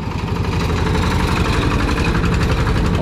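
A small Kubota diesel engine on a converted hand-tractor truck chugs in a steady, rapid rhythm, loud and close, running on its own without voices.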